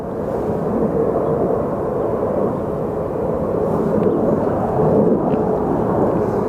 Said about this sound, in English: A little Embraer just took off on the north side.